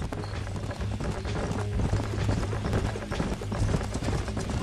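Rapid hoofbeats of a wild horse herd galloping drum steadily throughout, loud and continuous over a dense rumbling Red Dead Redemption game soundscape with no talking.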